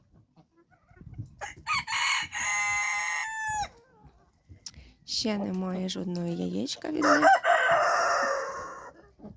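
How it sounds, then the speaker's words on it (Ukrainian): Chickens, including a black bantam hen, cluck and squawk in bursts while someone talks close by; one bird lets out a drawn-out, rising call. "А ця курочка бентамочка чорненька мені подобається, дуже така гарненька. Всі до мене біжать."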